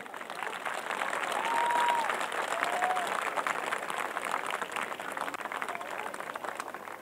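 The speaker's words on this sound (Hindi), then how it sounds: "संख्या के हिसाब से कुछ तालियों का जोर कम लग रहा है" An audience at the Lokrang 2022 cultural event in Jaypur claps in a steady, moderately loud wash of applause that holds evenly from start to finish, with a faint whistle early on.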